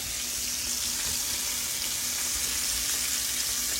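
Food sizzles and crackles steadily in a hot skillet, a dense, even frying hiss heard up close with no talking.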